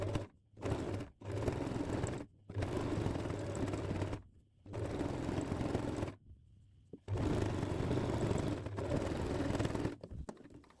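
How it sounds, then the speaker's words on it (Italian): A sewing machine stitches the curved sides of a hood through thick outer fabric and lining on a long stitch, running in quick bursts of rapid mechanical chatter separated by short pauses, close and fairly quiet, no talking. "Ora cucio i lati curvi del cappuccio sia sul tessuto esterno che sulla fodera."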